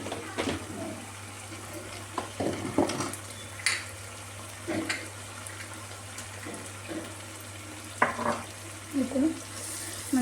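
Chili powder stirred into onion-tomato masala frying in oil for an egg curry: intermittent scraping and clinking of a spoon against the pan over a low, steady sizzle, fairly quiet and close.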